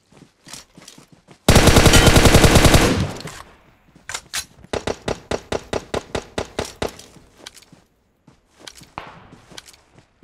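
Video game gunfire rings out as a long, loud burst of automatic fire, followed by a rapid series of sharp single shots and a few scattered later shots.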